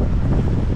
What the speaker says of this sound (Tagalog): mas lalo lumakas ang hangin pati ang alon